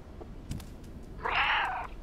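Cat meow from the video game Stray: a single clear, moderately loud mew lasting about half a second near the end, after a few soft taps and rustles.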